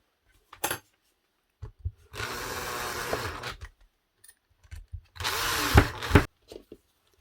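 A Mellif cordless power tool runs in two bursts of a couple of seconds each, a loud whirring buzz, separated by quiet gaps with short clicks and handling knocks.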